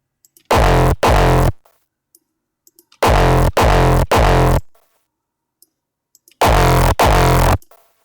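Hardstyle kick drum with multi-band distortion, its high end crunched separately for crisp bite, hits in three loud bursts of two to three heavy distorted thumps each, separated by silence.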